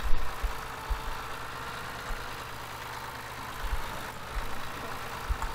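A tractor engine runs steadily in the video game Farming Simulator 15, a low mid-range drone with a faint idling knock and a few soft thumps, alone with no talk.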